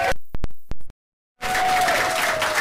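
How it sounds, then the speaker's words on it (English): Audience applause breaks out at the Phoenix Artists Bar during a comedy evening, a sudden burst of dense clapping after a brief silence, loud and continuous from a nearby crowd. "And a round of applause for the Phoenix Artists Bar."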